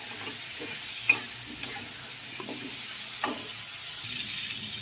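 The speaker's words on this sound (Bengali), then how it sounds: "এবারে ভালো করে কষাবো মশলাটাকে" Spice paste of salt, turmeric, cumin, ginger, tomato and chilli powder with a little water is stir-fried in a pan, a soft low sizzle broken by a few sharp spatula scrapes and knocks.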